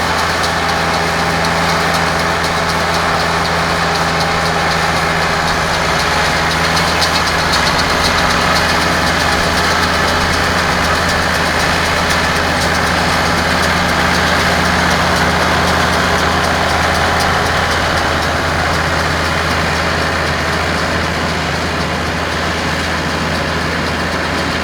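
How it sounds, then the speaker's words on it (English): A tractor running with a hay baler in a field gives a steady, loud engine drone with a low idling hum that continues without a break through the whole stretch, with no talking. "Looks like my uncle has just arrived with the baler, so we'll start rolling up some hay"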